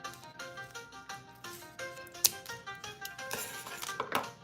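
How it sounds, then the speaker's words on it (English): Scissors cutting out a handmade mouth guard craft piece, with a series of close, quiet snips and clicks at an uneven pace and one sharper snap partway through. "And then need a scissor, okay? And then we're gonna cut this out about right there."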